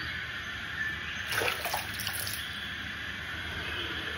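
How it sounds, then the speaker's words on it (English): Water is added to shaving lather being worked into the skin and hairs, heard as a faint, brief wet splashing burst at moderate distance, with no talking. "now I'm going to start adding water."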